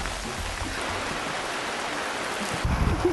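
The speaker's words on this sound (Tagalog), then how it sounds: "Ang lakas ng ulan." Heavy rain pours down in a steady, dense hiss that holds at a constant level throughout, with a faint low rumble near the end.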